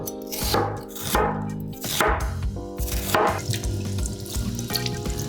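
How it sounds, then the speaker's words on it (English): Steady rhythmic knife chopping through an onion on a cutting board, close and crisp, with a running tap and dripping water in the background. "peel and slice the onion"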